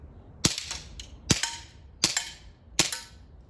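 Airsoft pistol fires five crisp, snappy shots at a steady pace, each a sharp pop with a short metallic ring, close and alone without talk.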